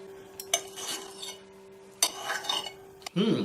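Cutlery clinks against a plate while someone eats a hedgehog mushroom omelette made with double-yolk eggs: three sharp, separate metallic taps spaced over a few seconds, with a faint steady hum behind them.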